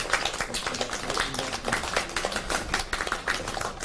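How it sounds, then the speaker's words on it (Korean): Scattered hand clapping from a small group closing a parents' education meeting, a steady patter of claps in a room with faint voices underneath. "그러면 오늘 간담회 여러분들 박수 치면서 마치도록 하겠습니다"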